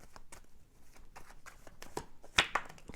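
Tarot cards are shuffled by hand in quick, soft riffling bursts, close and fairly quiet, ending in a sharper flurry of card slaps near the end.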